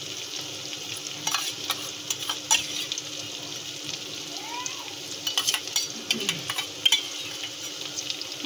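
Ginger-garlic paste frying and sizzling in a pan with browned onions, a steady close hiss broken by scraping stir strokes and occasional clinks, no talking.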